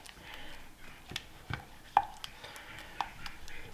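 A spatula scrapes and stirs soft scrambled eggs cooking low and slow in a pan, making quiet, irregular scuffs and light taps against the pan, close by, with no talk.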